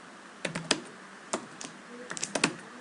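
Keys clack on a computer keyboard as a router command is typed, a few quick clustered strokes close by with short pauses between bursts and no talking.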